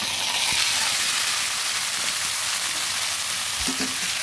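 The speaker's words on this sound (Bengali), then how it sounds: "ভালো ভাবে নেড়ে দিচ্ছি।" Pumpkin leaves being stirred in a hot pan with fried garlic give a steady, close sizzling hiss throughout, with a few soft scraping knocks from the stirring.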